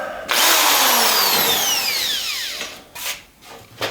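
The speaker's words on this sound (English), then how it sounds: "we'll use this big old hammer drill" A big corded hammer drill, used in a garage, spins up with a loud whine and winds down as the pitch falls, followed by a few short, sharp bursts as the trigger is pulled again.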